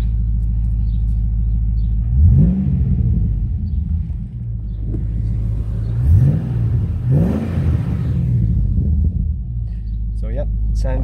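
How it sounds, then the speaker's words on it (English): 2004 HSV Clubsport R8 manual being revved at idle, a deep loud rumbling V8 rising in a few quick throttle blips and settling back, with a person speaking briefly near the end. "Let's give it a bit of a rev,"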